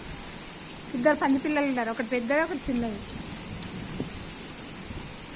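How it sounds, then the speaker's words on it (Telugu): Heavy rain pours down in a steady, even hiss, with someone talking over it for a few seconds before the downpour continues alone. "ఇక వాన ఆగనే ఆగదు"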